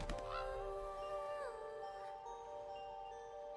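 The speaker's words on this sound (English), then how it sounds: "Why do I hear a bird?" A bird honking in the video game Honkai Star Rail: a few clear, tonal goose-like honks close up at the start, trailing off into quieter sustained game tones, with no talk.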